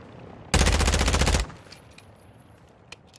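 A loud, rapid automatic burst of about one second rips through a Call of Duty DMZ match, then fades into faint ambient noise with a few distant pops.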